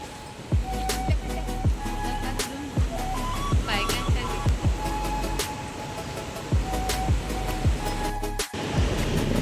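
Rushing river water in monsoon flows steadily with a broad roar, overlaid by repeated sharp clicks and whooshing sweeps from something nearby, in a Konkan village.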